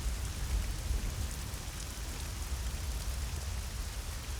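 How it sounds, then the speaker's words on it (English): Steady rain pours in the Hitman: Blood Money video game, a dense, even hiss of falling water with no pauses and no voices over it. "It's raining."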